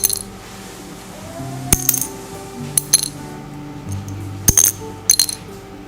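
Small guitar nuts and saddles of bone and plastic dropped one at a time onto a floor right beside the microphone, giving sharp, bright clicks and clinks that bounce and rattle in scattered pairs.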